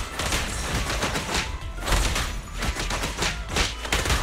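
Rapid sustained gunfire in the video game Zenless Zone Zero, dense bursts with thumping impacts and booms, loud and continuous throughout.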